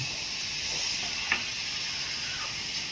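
Tomatoes hit a hot frying pan already holding onion and fish, raising a steady close sizzle with a brief clink partway through.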